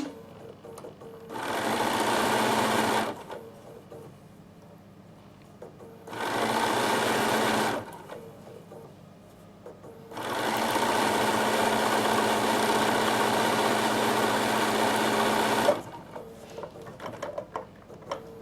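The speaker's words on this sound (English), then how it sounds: "Makes all these wonderful sounds because the machine's doing lots of work in the background there." Sewing machine zigzag stitching on a tissue box cover, running in three bursts, a rapid mechanical whir with short quiet pauses between, the last run the longest.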